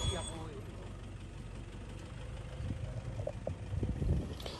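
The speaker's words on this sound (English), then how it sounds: "There's a ton of cars, a ton of trucks. They're loud." Several safari trucks idle near a group of elephants in Yala National Park, Sri Lanka, a low rumbling engine drone with some louder revving near the end, with faint voices mixed in.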